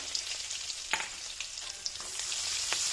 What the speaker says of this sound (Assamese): এয়া পিঁয়াজ জলকীয়া যে কাটি থৈছিলোঁ সেইখিনি দি দিছোঁ মাছ ভজা তেলতে।